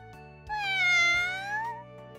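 A single drawn-out video game kitten meow, rising then falling, heard up close with a faint steady background hum.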